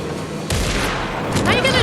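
Gunfire in the survival horror game Alan Wake 2: two sharp, loud shots close together in a short burst, followed by a brief reverberant tail.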